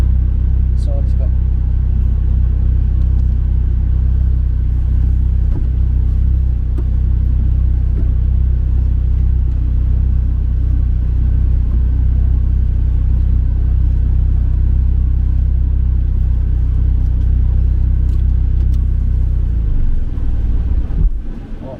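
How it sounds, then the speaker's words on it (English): A newly bought car's engine rumbles steadily from inside the cabin while driving, a loud low drone that fades out at the very end. "So we're gonna try to drive the car for a while, maybe around the area"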